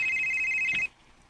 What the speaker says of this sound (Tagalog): Kisa may nanawag, uy